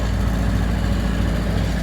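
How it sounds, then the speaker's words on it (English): An engine runs at steady speed with cruise control set, a continuous whirring fan belt drone layered over the low mechanical hum. "Now that sound you hear is the fan belt."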